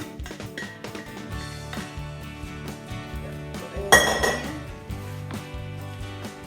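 Utensil clinks and taps against a pot while vodka chicken penne is mixed with Parmesan, mozzarella and fresh basil, with one louder clatter midway.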